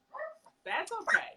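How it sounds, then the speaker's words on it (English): Small dogs bark and yip excitedly in quick, close bursts, with a soft whimper near the start. "My dogs are barking."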